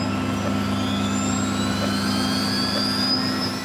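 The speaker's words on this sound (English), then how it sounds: "Beacon comes on, right side clear," An Eclipse 500 jet engine spools up in a flight simulator, a loud steady whine with rising high tones over a constant low hum, no voices heard.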